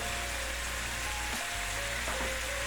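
Finely cut boneless chicken fries in hot cooking oil with a steady, loud sizzle and crackle, broken by a brief dip in the hiss.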